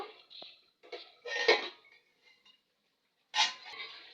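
Metal clanks from a cooking pan being uncovered and stirred while egg do peyaja curry cooks, with a few separate close clinks and scrapes and short quiet gaps.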